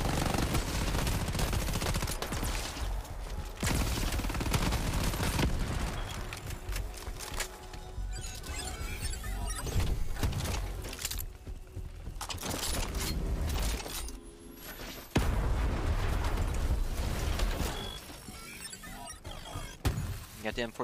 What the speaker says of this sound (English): Maybe I should use this SMG more often.